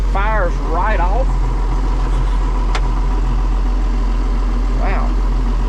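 A vintage farm tractor engine idles with a steady, deep, constant rumble close by, while someone talks over it.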